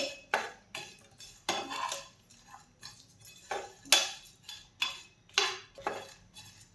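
Spices for Veg Kolhapuri dry-roast in a pan, heard as rhythmic metallic scraping and clattering strokes of a spoon against the pan, loud and close, repeating about once a second with no voices.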